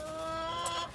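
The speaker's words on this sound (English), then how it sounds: "I wanted you to meet my chickens" Farm chickens give a brief, soft cluck in a quiet, close moment, with a short bright call rising near the end.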